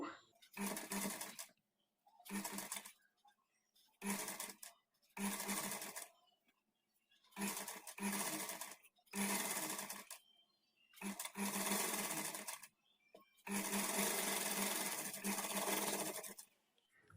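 A sewing machine stitches blouse sleeves in repeated bursts of fast mechanical whirring, about eight runs of varying length separated by short pauses, close and clear.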